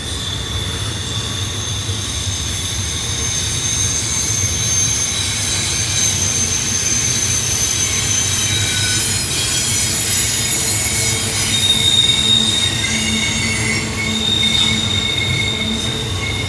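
A long coal train with six locomotives, including pushers, eases downhill on Horseshoe Curve in Pennsylvania, wheels squealing in high steady tones over a continuous rumbling roar of rail cars, loud and sustained, with no talking.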